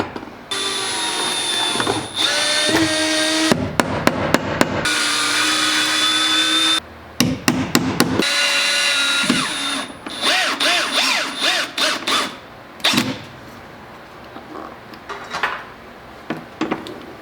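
A power drill drives screws to mount a wall bracket in a garage, heard as repeated bursts of whirring that start and stop, loud and close, with clanking of hardware between runs and no talk.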